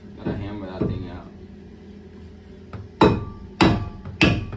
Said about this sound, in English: So we're gonna hammer the rotator, the old one.